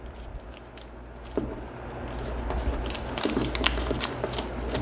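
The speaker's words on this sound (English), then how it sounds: "Now we just fold it over." Sheets of paper are creased and folded while making a paper fortune teller. Soft crinkles and sharp creasing snaps come close by, irregular and gradually getting louder, with no talking.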